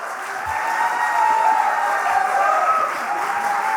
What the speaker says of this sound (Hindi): जो कलाकार हैं वो सिर्फ और सिर्फ आपकी तालियां चाहते हैं और कुछ नहीं